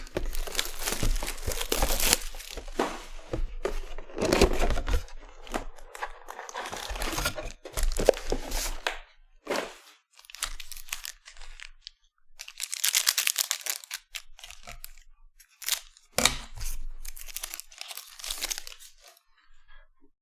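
Panini Certified football trading card hobby packs being torn open, with crinkling wrapper foil and sharp tearing in repeated bursts separated by short quiet gaps, close up and alone.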